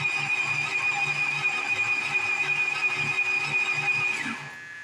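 A 1978 Dodge D-200 pickup engine that had been locked up runs steadily after cranking, a continuous mechanical drone with a high whine, then drops off near the end.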